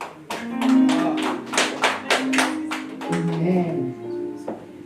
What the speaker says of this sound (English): Let's clap for this girl.